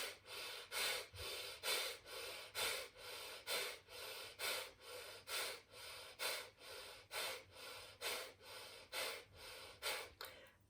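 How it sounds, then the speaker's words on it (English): Rhythmic breathing exercise with a long series of quick, sharp exhales through the nose, around twenty forceful puffs in steady succession, close and clear with no talking. "Inhale and sharp exhales."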